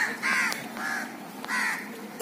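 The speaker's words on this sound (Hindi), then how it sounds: "ये देखे कौओं की बाराती, 6 बजे सुबह में" Crows caw in repeated harsh bursts at six in the morning along a roadside in East Champaran, Bihar, several calls overlapping at moderate distance with brief pauses between them.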